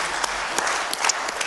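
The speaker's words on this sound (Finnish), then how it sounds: "Annetaan Jenikalle oikein ihanat aplodit vielä kerran." Applause from an audience welcoming a guest named Jenika, a dense, steady patter of clapping that holds at an even level for the whole moment with no voices over it.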